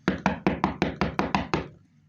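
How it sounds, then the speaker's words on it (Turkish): Door knocking in the My Play Home Plus video game, nine quick evenly spaced raps in a crisp burst, close and loud, with no talking over it. "Ay kapı çalıyor."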